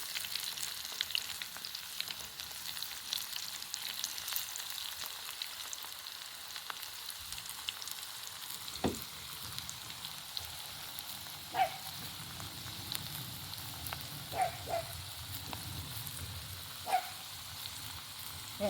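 Zucchini fries sizzle steadily in a hot cast iron pan, a constant frying hiss with a few sharp clinks and scrapes as pieces are flipped, close up and without talk.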